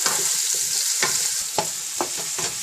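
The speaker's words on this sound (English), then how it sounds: "We have to just cook this onions until it's like golden brown." Onions fry in a pan for a Punjabi black-eyed bean curry, giving a steady close sizzle broken by a few sharp clinks and scrapes of stirring, with no voices.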